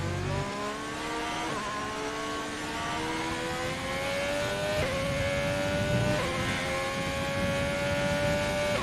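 A race car's engine holding a steady high whine through a lap in a simulated French Grand Prix, pitch climbing and dropping sharply at each gear change, close and continuous with no talk over it.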